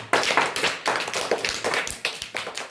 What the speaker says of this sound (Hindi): ताली इनके लिए भी बजाओगे